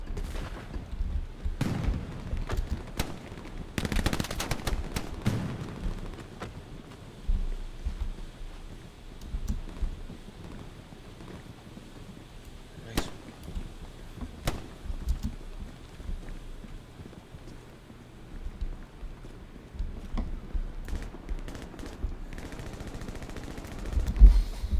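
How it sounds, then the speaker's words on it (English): Scattered gunfire from a Hell Let Loose battle in Carentan, with sharp distant shots and short bursts popping over a steady rumbling background, some cracks closer and louder than others. "Shooting at somebody somewhere."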